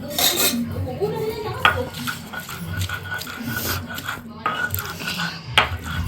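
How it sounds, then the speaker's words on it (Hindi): Boiled kandali (stinging nettle) being ground on a stone grinding slab in a Pahadi kitchen, with continuous scraping and knocking strokes, uneven clatter and occasional sharp taps, close and moderately loud. "अब हमें इस सिलवट्टे में इसे पीसना है भाई"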